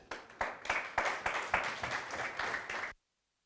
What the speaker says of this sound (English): We should give an applause to our MC today.